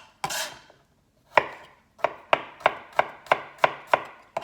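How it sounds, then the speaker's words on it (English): A knife chops peeled garlic on a cutting board, one scraping stroke followed by a steady run of about eight close, crisp, evenly spaced chops with no talking. "I'm just going to chop it up."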